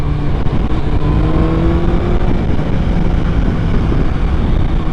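Steady, loud road traffic roars continuously, with engines droning and vehicles passing close by, no voices.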